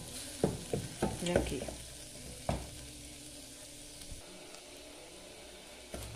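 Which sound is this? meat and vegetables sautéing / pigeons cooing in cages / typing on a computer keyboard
meat and vegetables sautéing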